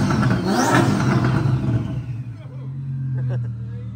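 A street-legal twin-turbo race car engine revs hard, surging up in a rising sweep and then dropping back to a lower, steady throb with a few sharp crackles, close and loud.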